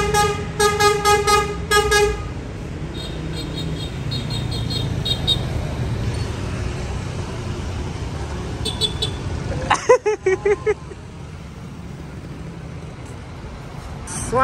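A Juragan99 Trans double-decker sleeper bus pulls in at the company office, its engine rumbling steadily, with a musical horn tooting at the start and more horn blasts later, amid traffic noise.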